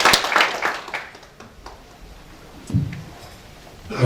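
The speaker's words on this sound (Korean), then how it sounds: "여러분 큰 박수로 환영해 주십시오." Brief bursts of audience clapping at a formal ceremony in Busan, welcoming a council chairman to the stage, rising at the start, thinning out and swelling again near the end.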